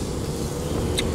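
A car on the way to the gym gives a steady low interior rumble of engine and road noise throughout, with a brief faint chime near the end.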